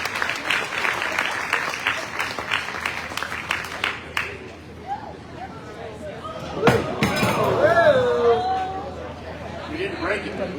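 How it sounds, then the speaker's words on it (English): Crowd applauding at the awards ceremony of a national sheep shearing competition in the USA, dense sustained clapping for about four seconds that thins into scattered claps, murmuring and a sharp knock, with voices talking underneath. "let's give all our blade cheers a big round of applause"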